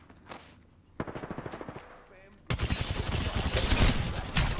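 Rapid bursts of gunfire from weapons in the battle royale game Apex Legends, loud repeated automatic shots that start in short volleys and swell into a dense, continuous barrage.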